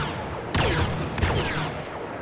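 Two sharp gunshots ring out in the Star Wars Battlefront video game, spaced about half a second apart, each cracking loudly over a constant background hum.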